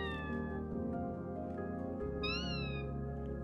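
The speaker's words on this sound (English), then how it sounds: "One time, I pretended to be a cat." A robot dog gives a cat-like meow, a steady electronic-sounding mew with a rising, wavering upper tone near the end, heard clearly over a constant low hum.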